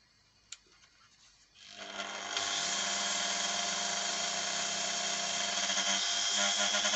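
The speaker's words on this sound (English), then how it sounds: "all I need to do is grind it off a little bit" A rotary tool spins up and grinds a small plastic part on a 1/35 scale Italeri S100 Schnellboot model, a steady high-pitched whine that starts after a quiet moment and holds close and constant.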